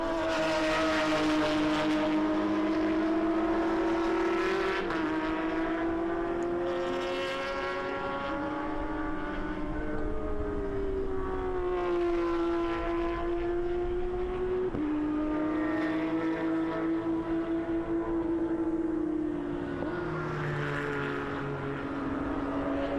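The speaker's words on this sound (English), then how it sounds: "Stephen Hammond laying down some excellent laps at the moment" Race cars lapping at the Atlanta SpeedTour road course, engines droning continuously with rising and falling pitch as cars pass, loud and sustained throughout.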